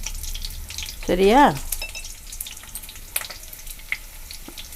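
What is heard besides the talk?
frying snack pieces in hot oil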